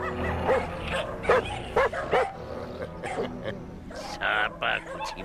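Several dogs barking and yipping in short repeated bursts, some with whimpering tones, mid-distance, with a voice speaking over and between them.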